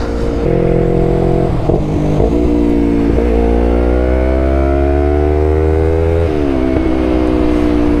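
A loud 2019 Yamaha YZF-R3 motorcycle engine with an aftermarket exhaust runs steadily, its pitch climbing slowly as it revs, then dropping sharply near the end.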